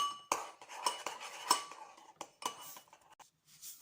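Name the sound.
stirring yeast in liquid with a spoon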